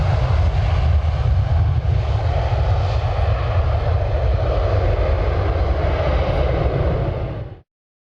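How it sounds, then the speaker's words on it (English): Loud, steady roar of a jet aircraft engine with a deep rumble, cutting off abruptly at the end. "let's hop in a jet and head to New Jersey"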